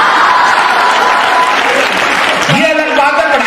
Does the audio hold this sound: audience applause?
yes